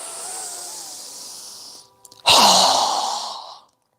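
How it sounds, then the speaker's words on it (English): A strong, forceful exhale during yoga breathing bursts out loud and close after a softer, longer breath, then tapers and stops abruptly. "Strong exhale."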